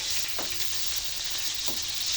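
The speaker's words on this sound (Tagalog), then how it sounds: "Igisa natin siya ng igisa." Kangkong (water spinach) sautés in a hot pan for adobong kangkong, giving a steady, close sizzle with a couple of soft stirring scrapes.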